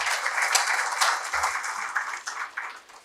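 A business summit audience in Peshawar, Pakistan, gives a round of applause: loud, dense, sustained clapping from a large crowd that slowly tapers off toward the end.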